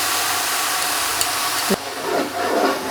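Garlic ginger paste drops into frying onions, a loud steady hiss that cuts off abruptly, then gives way to softer, uneven sizzling and bubbling close by.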